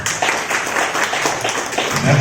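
An audience at a Lions Club of Miryalaguda meeting electing new office bearers claps together, a dense steady patter of many hands for a couple of seconds in a room.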